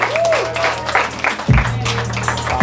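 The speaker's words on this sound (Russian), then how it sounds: "под ваши аплодисменты встречайте Паша Ким" A comedy show audience gives a short burst of applause as a comedian is called to the stage. The clapping is moderate and fairly distant, running under a host's speech.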